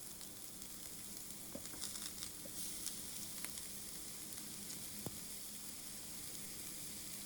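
Grated carrot and beetroot fry in coconut oil with mustard seeds in a pan, a steady soft sizzle with faint scattered stirring clicks, close and continuous with no talk.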